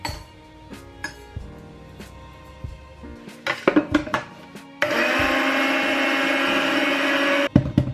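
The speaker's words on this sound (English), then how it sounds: "And now we are going to grind it. My grinder is pretty small, so I'm going to grind it in 2 batches." Small electric grinder working through a batch of seeds, starting after a few clinks and clatters of the lid and jar, then running as a loud, steady whirring drone for about three seconds before it stops.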